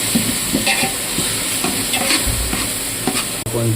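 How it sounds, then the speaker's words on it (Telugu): Chicken curry sizzles in a hot frying pan while a utensil scrapes and stirs repeatedly, close and fairly loud, with no talking. "బాగా మగ్గిన వరకు కలుపుకోవాలండి"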